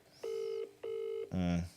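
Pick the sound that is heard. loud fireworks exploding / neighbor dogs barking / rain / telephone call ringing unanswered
telephone call ringing unanswered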